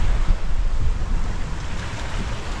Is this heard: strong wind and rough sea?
yes